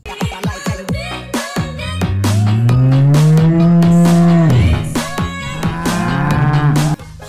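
Several cows moo loudly in a barn setting, with a long sustained moo in the middle and shorter calls and clatter before and after, heard close up with no talking.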